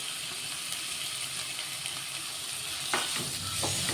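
Chopped tomato sizzles in a hot pan with turmeric, a close, steady frying hiss with a brief burst of louder crackle and stirring near the end.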